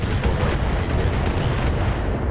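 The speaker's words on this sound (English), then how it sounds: "That's the sound of an ER-Lash laser" A burst of rapid, booming ER-Lash laser fire in the video game BattleTech rings out, dense and loud, for a couple of seconds without any pause.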